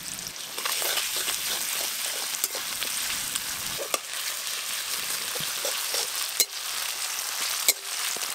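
Chopped onions fry gently in a pan as ginger-garlic paste goes in, a steady close sizzle running throughout with a few sharp clicks and stirring knocks, and no one speaking.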